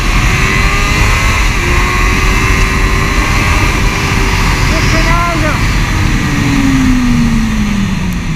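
Suzuki GSR 600 roadster motorcycle pulling hard in second gear, a loud continuous engine drone with rising pitch under heavy wind rush, heard from the rider's position with someone talking over it.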